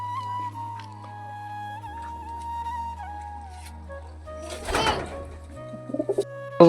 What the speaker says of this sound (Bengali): তো বন্ধুরা তারপরে দেখো সবকটা কবুতর এখনও খাচ্ছে